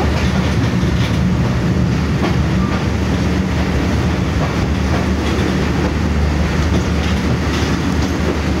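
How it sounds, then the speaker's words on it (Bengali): A train near Santahar, Bangladesh, on the Rajshahi to Dinajpur route rumbles steadily along the rails, with a continuous low roar and faint clickety-clack from the wheels throughout, no voices. "তো ট্রেন এখন সান্তাহারে"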